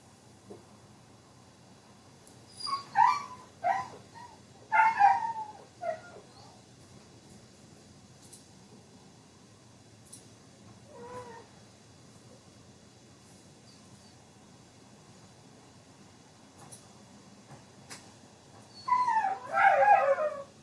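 Indoor dogs whimper and yip in short bursts, one cluster of cries early, a faint whine in the middle and another whimpering burst near the end, over a quiet background.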